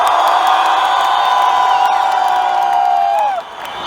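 Loud, continuous cheering from a crowd at a Moscow blogger contest, whoops and shouts over clapping for a performer, dropping off sharply near the end.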